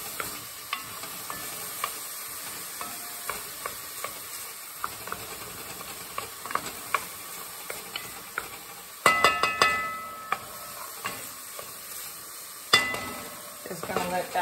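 Garlic frying in a pan on a stovetop set to low, giving a steady soft sizzle and hiss with scattered pops and a few louder clatters of a utensil.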